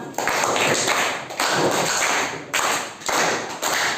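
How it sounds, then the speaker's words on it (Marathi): A class of students claps for themselves, dense loud applause in a room, broken into several short bursts with brief pauses between them. "चला सर्वांनी एकदा स्वतःसाठी टाळ्या वाजवा"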